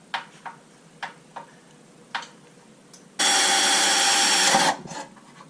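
Power drill whirring for about a second and a half as it drives a self-tapping screw into a Scion FR-S widebody car body to mount a light bar, preceded by several sharp tapping clicks; close and loud with no talking.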